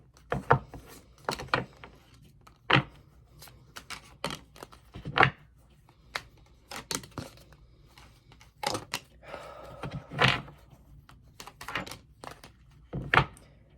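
A tarot card deck being shuffled by hand close up, giving a run of crisp, irregular slaps and riffling snaps at varying loudness with short pauses between them and no talking.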